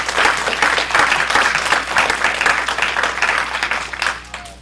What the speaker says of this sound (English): Let's give a round of applause for all of our candidates.